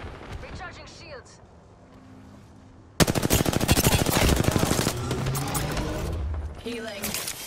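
Rapid automatic gunfire from an Apex Legends match, a quieter stretch with faint game sounds giving way to dense, loud sustained bursts of shots that continue to the end.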